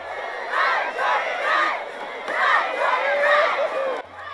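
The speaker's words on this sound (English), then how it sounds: "Listen to the chant from the Serrano cheering section" The Serrano cheering section at a high school football game chants in rhythmic bursts, a crowd of voices rising and falling in repeated phrases from the stands.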